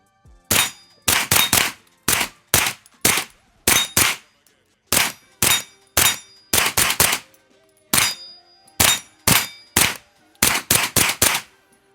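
A suppressed PSA AR-V rifle fires in rapid bursts of three to five shots with short pauses between, each report sharp and loud with a metallic ring, close by and with no talk.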